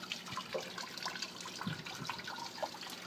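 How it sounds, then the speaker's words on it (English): Water bubbles out of the top of a vertical hydroponics tower and sprinkles down through its planting holes, a steady close trickling and splashing with no one talking. "Water bubbling out and sprinkling down the holes."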